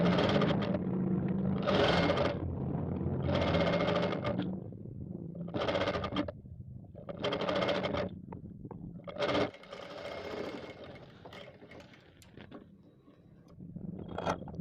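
A sewing machine stitches thread piping onto a blouse lining, running in several short bursts separated by brief pauses, close and steady, with faint handling noise between runs.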